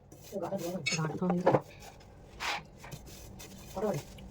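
Cooked meat being tipped into a tin container in a home kitchen, heard as a few faint metallic clinks and knocks spread across the moment, with a voice talking nearby.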